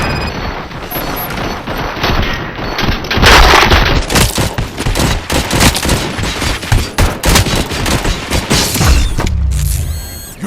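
Dense, rapid bursts of gunfire in RoboCop: Rogue City, loud and continuous with sharp repeated cracks and mechanical clatter, close and overlapping for the whole stretch before the firing thins near the end.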